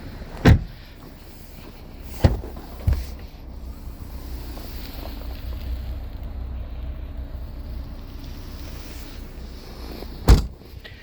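A 2021 Skoda Scala 1.6 Ambition's power window hums steadily as it moves, bracketed by a few sharp clicks and thumps at the start and end.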